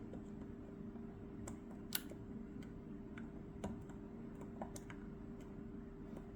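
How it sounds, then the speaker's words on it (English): Medeco lock pins click faintly while the lock is being picked: a sparse series of small sharp ticks over a steady low room hum. "I rotated it, and now you can hear clicking."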